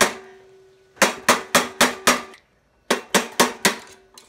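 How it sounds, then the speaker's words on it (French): Hammer blows on a screwdriver forcing a part off a small Honda GX200-type 196cc engine: a run of five sharp metallic strikes, a short pause, then five more, loud and close with no talk. "j'ai enfin réussi à enlever ce truc là en forçant à coups de tournevis et de marteau, comme vous avez pu le voir"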